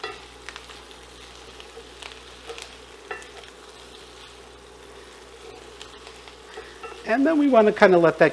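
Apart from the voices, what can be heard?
pearl onions cooking in butter in a pan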